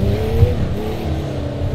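A race car in a racing video game drones steadily at close range, its engine note rising and shifting as it accelerates through corners, with no talk over it.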